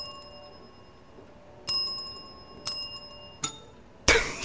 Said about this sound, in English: I tapped the bell about 3 times